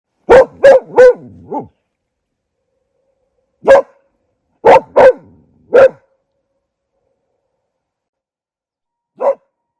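A dog barks out over water with hills around it. Three quick barks come first, then another group of three, then one last bark, each loud and clear with silent gaps between.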